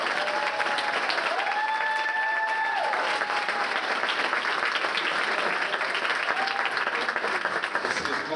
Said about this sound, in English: Can we give a big round of applause to our student athletes who work here tonight?